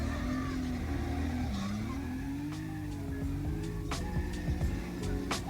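Drift car engine held at high revs with throttle modulation, its pitch wavering up and down as it holds a slide. Sharp tire chirps and squeals break through here and there, and the sound comes from mid distance.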